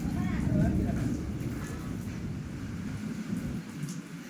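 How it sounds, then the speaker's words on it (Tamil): Heavy summer rain pours down steadily in rural Tamil Nadu, a dense close hiss with low rumbling, loud at first and easing slightly toward the end. "பயங்கர மழை பெஞ்சிட்டு இருக்கு"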